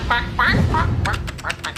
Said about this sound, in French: Ce canard jaune poussin là, il me suit partout depuis que je lui ai sauvé la vie.